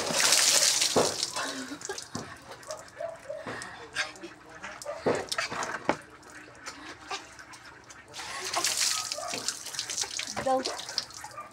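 Water runs and splashes in a bathroom during bathing, with irregular bursts of pouring and sloshing. The water is loud near the start and again toward the end, and brief knocks fall between the bursts.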